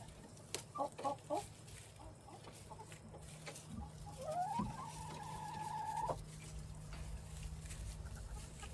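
A hen in a chicken coop clucks in a few short, quiet bursts, then gives a longer rising squawk that holds for a moment. The calls sound close but faint over a steady low background hum.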